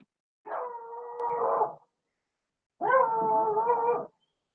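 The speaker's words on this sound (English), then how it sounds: "Can you guys hear my beagle out there barking at the deer?" A beagle outdoors gives two drawn-out howling bays aimed at deer, each lasting over a second with a short gap between them. The dog sounds fairly clear against a quiet background.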